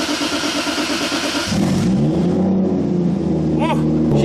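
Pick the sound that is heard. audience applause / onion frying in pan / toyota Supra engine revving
toyota Supra engine revving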